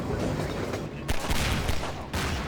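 Rapid bursts of gunfire from Half-Life 2 running at double speed crackle densely over a busy game soundscape, loud and continuous with brief dips.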